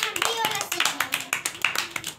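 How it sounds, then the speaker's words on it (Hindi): Kindergarten children in a classroom clap in quick, uneven bursts close by after reciting rhymes, a scattered patter of small hands with a few voices mixed in. "ओह, बहुत अच्छा, ताली बजाइए इसके लिए।"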